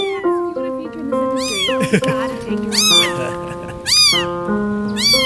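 A cat meows repeatedly and insistently, close by, several drawn-out plaintive cries in a row with a person talking over them.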